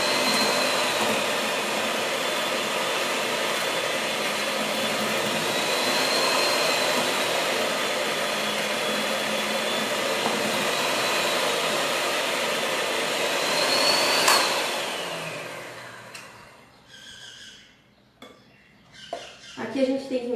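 A stand mixer beats chocolate chip cookie dough with a steady whirring motor drone and the beaters rattling against the bowl. After about fifteen seconds it winds down, and a few scrapes and clatters follow.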